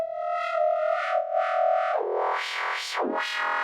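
Glassy psytrance synth lead built from wavetables in the Vital synth, sustained bright tones that sweep and morph through filter-like rises and falls, loud and alone with no voice.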